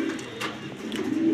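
A grizzle pigeon from a loft coos softly, with a couple of low murmuring calls over faint background hiss and no talking.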